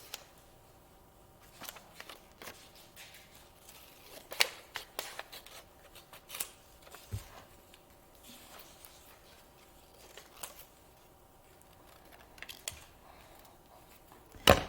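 Scissors snip paper pictures for a second-grade reading activity, in scattered short crisp cuts and rustles with quiet pauses between them, fairly close and soft.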